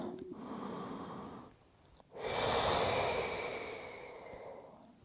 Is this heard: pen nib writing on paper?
no